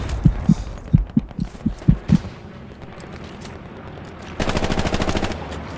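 Gunfire in the Hell Let Loose video game: a series of sharp, evenly spaced single shots fades into quiet, followed by a rapid, loud automatic burst lasting over a second.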